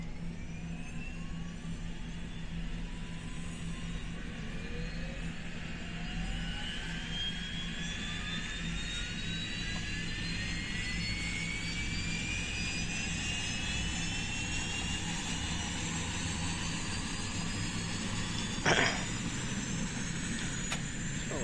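Turboprop engine of a FlyJsim Q400 starting up in a flight simulator, a steady broadband roar with several rising whine tones climbing gradually as the engine spools, plus a brief sharp click near the end.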